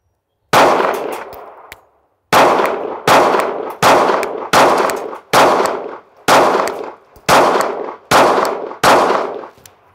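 A Sig Sauer P365 pistol fires ten rounds from a 10-round magazine, loud close shots with ringing tails, one shot then a pause, then a steady rhythmic string of nine, with no talking.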